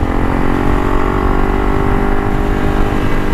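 A Honda CRF300 Rally dirt bike engine drones loud and close, holding a steady high pitch as it runs smoothly up through the gears, without voices.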